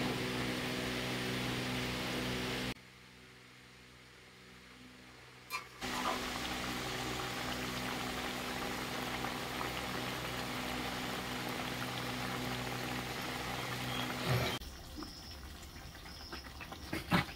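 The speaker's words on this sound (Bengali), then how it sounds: "তো দেখো পটল দিয়ে দিয়েছি, এবার 5 মিনিট মতন ভালো করে ফুটিয়ে নেব" Pointed gourd (potol) simmering in a pot of water, a soft continuous bubbling hiss that cuts out for a few seconds, then resumes, with a faint clink near the end; no one speaks.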